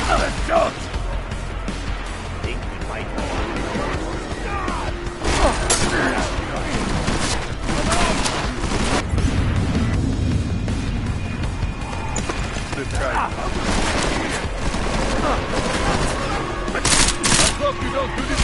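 Loud, dense gunfire from the video game Deus Ex: Mankind Divided, bursts of rapid shots and mechanical clatter filling the whole stretch, with voices talking at times.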